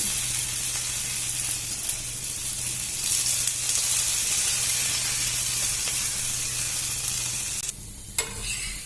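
Adai dosa frying in oil on a hot pan, giving a steady, close, bright sizzle that hisses continuously, with a brief clatter and a dip in the sizzle near the end as the pan is handled.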